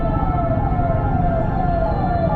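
An ambulance siren wails steadily on a busy street amid traffic rumble, loud and continuous with a rising and falling pitch sweep.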